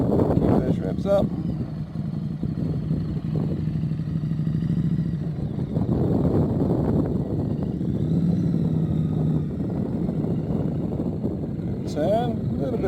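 A motorcycle engine holds steady revs through a slow turn, a continuous low drone with some clatter that stays fairly loud throughout, while a person talks over it.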